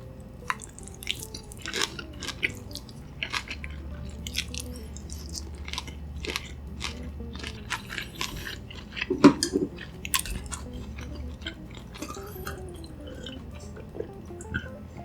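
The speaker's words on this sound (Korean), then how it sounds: "내 맘대로 새우 토핑 왕창 추가한 피자 한 조각 먹는 느낌이었어요" A slice of pizza topped with shrimp is chewed right at the mic in a steady run of wet, squishy bites with occasional crunches and one louder bite midway, with no talking.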